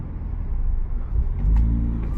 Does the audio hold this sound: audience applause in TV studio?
no